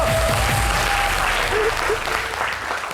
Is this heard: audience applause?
yes